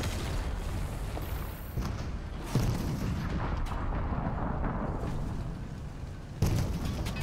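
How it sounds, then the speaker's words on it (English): Tank turret firing in Fortnite during a custom tank battle, heavy booming gunfire rolling continuously over several seconds, with sharper blasts standing out near the start and end. "he's on the turret shooting"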